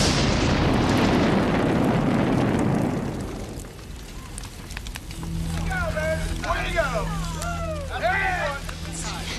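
A sci-fi sonic bore weapon fires with a loud, broad roaring blast for about three seconds, then a sustained humming drone with warbling, chirping electronic tones rising and falling over it.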